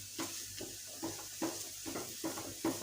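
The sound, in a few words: mixing boiled potato batter in a bowl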